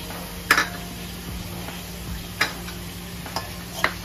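Mutton being stirred with spices, chilli powder and black pepper in a pan, a low steady sizzle with a few soft scraping knocks of the spoon at intervals.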